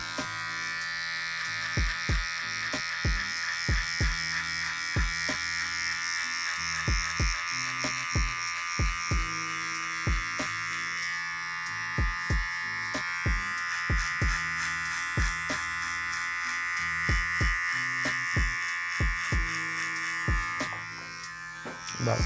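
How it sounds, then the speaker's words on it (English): An alpha gamma electric clipper buzzes steadily and close during a high fade buzz cut on straight hair, a continuous droning whine broken by regular ticking clicks as it moves through the hair. "Absolute alpha gamma clipper, that's what it is."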